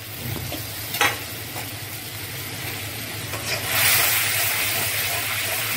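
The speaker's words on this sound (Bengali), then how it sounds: "আমি একটু কষিয়ে নিচ্ছি" Turmeric and spices sautéed in hot oil for a Bengali tilapia curry, a continuous frying hiss with a few stirring scrapes that grows louder and fuller toward the end.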